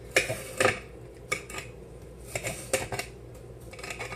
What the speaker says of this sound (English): I'm gonna cut small slices, thin slices of the pepper first, the long way